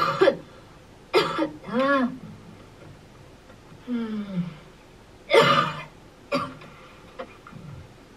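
Coughs and throat clearing come in short separate bursts, close and fairly loud, with gaps of quiet between them. A few brief vocal sounds sit among them.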